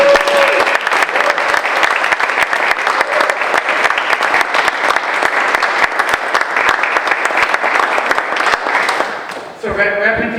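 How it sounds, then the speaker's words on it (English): An audience at a community fund annual meeting applauds the departing president, a dense, sustained wash of clapping that holds steady for about nine seconds, then tapers off as a voice begins speaking. "I think Sean deserves a round of applause for it"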